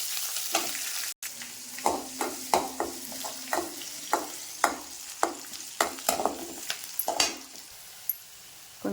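Onion, fenugreek seeds, cumin and curry leaves sauté for a dal curry under a low continuous sizzle. A spoon scrapes and stirs at a steady rhythm, giving repeated close scraping strokes and a few light clinks of metal on the pan.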